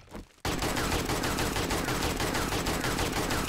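Rapid, dense shotgun fire in a video game rings out continuously after a brief quiet start, loud and sustained with no pauses.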